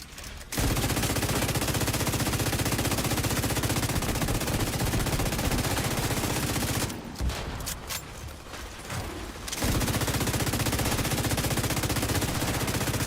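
A player's automatic gunfire in a video game: a dense, loud stream of rapid shots that runs almost nonstop, drops back briefly near the middle, then resumes at full force.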